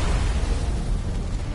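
Explosion in the video game Destiny, a single loud, dense boom with a rumbling low-end blast that fills the whole moment and fades slightly at the end, with no talking over it.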